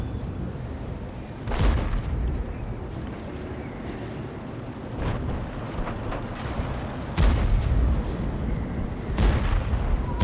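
Artillery cannon fire in a combat video game, with booming broadband blasts around two, five and seven seconds over a steady wind-like rumble, no talking.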